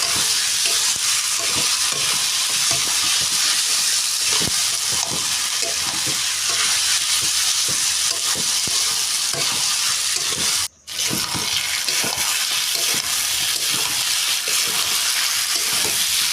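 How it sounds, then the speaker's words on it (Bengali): Ginger garlic paste stir-frying in a pan for luchi and alur dam, with a steady loud sizzle and constant scraping strokes of a metal spatula close up, one brief dropout midway, no talking. "তো অল্প পরিমাণে আদা আর রসুন দিয়ে দেবো বাটা। এটা দিয়ে একটু কষিয়ে নিতে হবে ভালো করে।"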